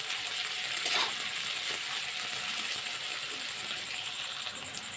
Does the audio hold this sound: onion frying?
yes